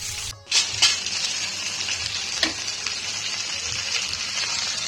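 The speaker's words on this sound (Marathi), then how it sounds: "तेल घालून घे छान तिरकुरू होईपर्यंत हे पापलेट आपल्याला फ्राय करून घ्यायचं आहे" Pomfret coated in semolina and green masala fries in a shallow layer of oil, giving a steady, close hiss with a few brief clatters and sharper crackles along the way.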